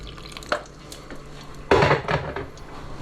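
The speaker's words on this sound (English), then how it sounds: "Just going to add the last bit of water to it." Water poured into a pan of creamy risotto, a soft clink at first, then a louder splashing sizzle with light clatter from the pan, close up and with no talk.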